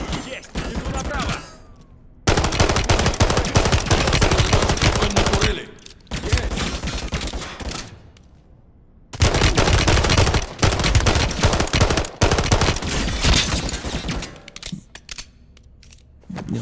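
Bursts of heavy turret machine gun fire from Call of Duty Modern Warfare III, loud and close, in long sustained volleys broken by short pauses, with voices talking over parts of it.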